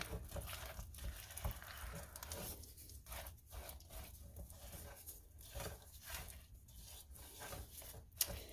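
A spatula mixes thick chocolate chip cookie pie batter in a bowl, making soft, repeated scraping and folding strokes at close range with a quiet background.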